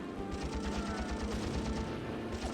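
Rapid machine gun fire rattles steadily in a naval combat video game, a dense rhythmic burst of shots running through the whole stretch at moderate loudness with no talk over it.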